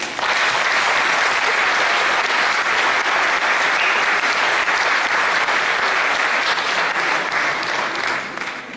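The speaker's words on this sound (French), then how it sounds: "Je vous demande de l'applaudir." Sustained applause from a large seated crowd at a public event welcoming a guest, a dense, loud, even roar of clapping lasting almost nine seconds before easing slightly at the end.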